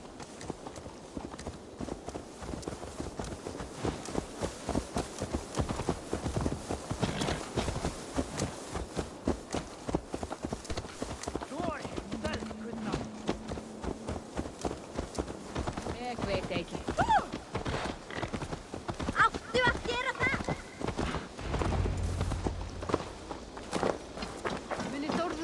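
Steady clip-clop of horse hooves under continuous talk and game music in the video game Assassin's Creed Valhalla, the rhythm running throughout.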